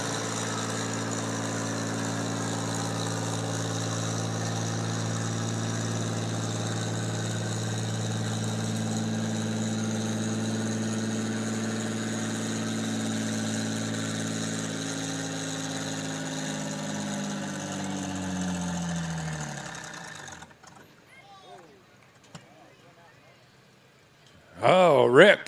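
A John Deere 4020 gas tractor idles at a country fair tractor pull with a steady, droning rumble. It cuts out abruptly near the end, then sputters briefly back to life.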